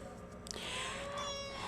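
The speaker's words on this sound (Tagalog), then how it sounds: "Ayan, makulit yung pusa ko." A pet cat gives a single drawn-out meow, quiet and fairly close, rising into a wavering tonal cry against a faint indoor background.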